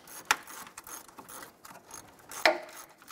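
Hand ratchet clicking while loosening a 10 mm bolt on the passenger side of the radiator fan of a 2006-2013 Chevrolet Impala, a fast close series of pawl clicks with two sharper metallic knocks.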